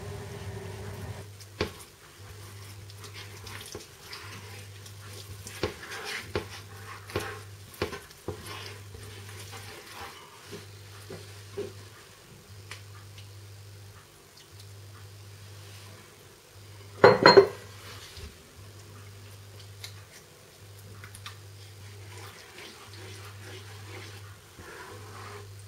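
Spoon scraping and clinking against a pan while milk is stirred into béchamel sauce, with soft irregular taps and scrapes, one sharp louder clatter midway, under a faint steady hum.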